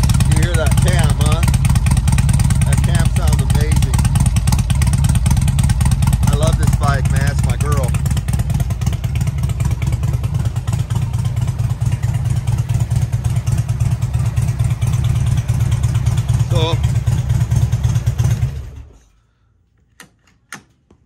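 A Harley-Davidson motorcycle idles steadily after startup with a loud, rumbling, pulsing engine and a noticeable cam, close by. People talk over it before the engine cuts off near the end, leaving a few faint clicks.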